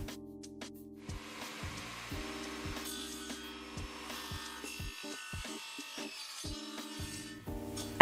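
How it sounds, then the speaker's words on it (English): A crosscut saw cuts lengths of wood for the sides of a bird table feeder. A continuous rasping cut runs for most of the clip, steady and fairly close, over a rhythmic tonal background. "I cut 2 of those lengths on the crosscut saw"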